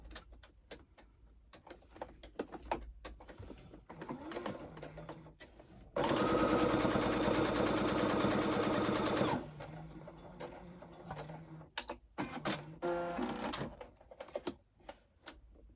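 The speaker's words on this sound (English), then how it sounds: "I'm just going to sew down each side." A sewing machine stitches down the sides of a lip balm holder in one rapid, steady whirring burst of about three seconds, surrounded by soft handling clicks and rustles.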